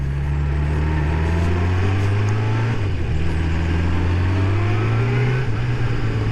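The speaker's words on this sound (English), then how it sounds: "she's accelerating clean, so I think that the carbs are running correctly" A freshly rebuilt Kawasaki GPZ600R motorcycle pulls away on the road, its engine note climbing steadily, dipping at a gear change and rising again under constant wind rush.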